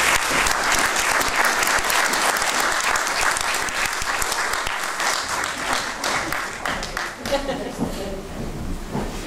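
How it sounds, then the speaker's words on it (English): Audience applause fills the room at an anniversary night event as a keynote speaker is welcomed, loud and sustained with dense clapping that gradually thins toward the end. "Please put your hands together for Michelle."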